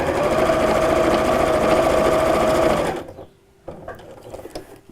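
A sewing machine stitches the seam of a small patchwork pin cushion in a loud, steady close run for about three seconds, then stops abruptly, leaving quiet fabric handling and faint taps.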